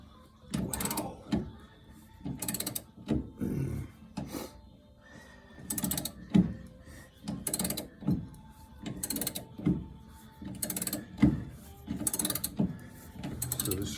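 Ratchet and socket slowly turning a screw under heavy tension during a car wheel well repair, a series of close, bursty clicking ratchet strokes repeating roughly every second or so with brief pauses between.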